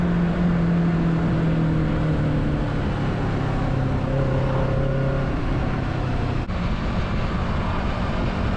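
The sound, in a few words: Kawasaki Z650 motorcycle accelerating, throttle opened to overtake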